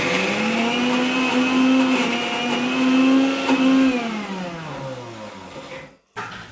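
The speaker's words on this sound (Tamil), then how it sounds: "இப்போ அரைச்சிட்டு வரலாம்" A mixer grinder runs on chana dal, red chilies, fennel and garlic, a loud steady motor whine with strong harmonics that dips in pitch near the end and cuts out abruptly, then briefly restarts.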